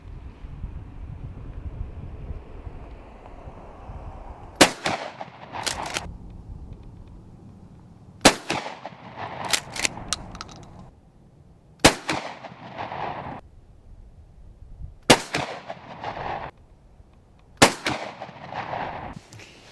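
Sharp gunshots while hunting in a marsh, six or so loud cracks spaced a few seconds apart, some in quick pairs, each trailing off over steady wind noise on the microphone.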